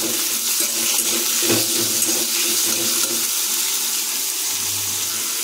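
Cut potato pieces sizzle in hot oil in a kadai while cooking a vegetarian Bengali ridge gourd posto dish, a steady loud hiss throughout with no talking.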